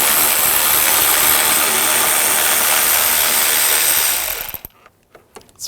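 A ratchet with a 10mm socket spins out bolts under the hood of a 2006-2009 Audi S4, a loud, continuous rapid clicking that runs for about four seconds, cuts off, then gives way to a few faint taps.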